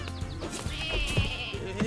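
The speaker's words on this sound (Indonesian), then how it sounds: "Ini domba-domba bos, domba bos, domba bos." Sheep in the video game Lumberhill bleat repeatedly over lively game music and effects, several wavering cries close together rising above the busy backdrop.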